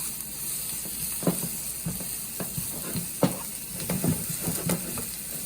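Diced red onion sizzling in a hot pan while cooking a chicken quesadilla, a steady hiss with scattered soft scrapes and stirring clicks, fairly close and moderate, no talk.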